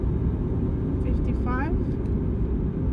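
A car accelerates on a drive around Werribee, giving a steady, loud interior rumble of engine and road noise throughout, with a faint voice briefly audible over it.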